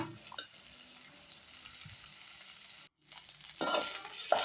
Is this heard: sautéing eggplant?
yes